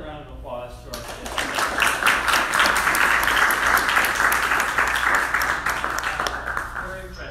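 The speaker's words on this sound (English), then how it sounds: "Let's give another round of applause to our guests." A debate audience applauds its guests, a dense round of clapping that swells after a brief lull, holds steady and loud for several seconds, then begins to thin near the end.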